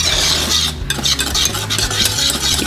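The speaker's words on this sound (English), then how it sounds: "I'm going to whisk it all together so it's really, really well mixed." A whisk stirs hot fudge sauce ingredients with cornstarch in a pan in steady, close scraping swishes, with faint clinks of metal against the pan.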